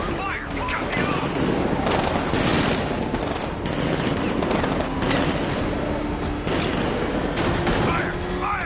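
Sustained automatic gunfire rattles continuously in a chaotic combat scene, with bursts layered over a dense background of shots and mechanical clatter while voices shout beneath the shooting.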